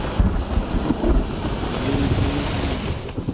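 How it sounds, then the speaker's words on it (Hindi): A rain and windstorm in Peshawar produces loud wind rumble and buffeting against the microphone, with a steady wash of rain-like noise throughout. "वक्फे से बारिश शुरू हुई।"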